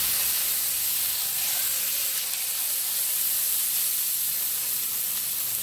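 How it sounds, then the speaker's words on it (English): A two-pound flank steak sizzles on a Camp Chef grill, giving a steady, even hiss of searing meat that is moderately quiet and continuous, with no one talking. "I got the 2-pound flank steak, and we're going to go ahead and throw that on the grill"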